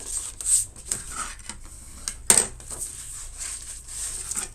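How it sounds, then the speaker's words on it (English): Paper envelope being folded along score lines and burnished flat, with soft rubbing and scraping strokes and a sharp crisp crease snap midway, close and fairly quiet with no talking. "let's just go ahead and fold and burnish the envelope"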